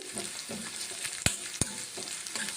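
Okra fries in an iron kadai, with a soft continuous sizzle and rhythmic stirring, plus two sharp metallic clinks of a spoon against the pan.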